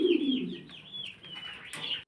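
Blue bar pigeons cooing, with a soft low coo at the start followed by higher chirpy calls, close and brief, with no talk.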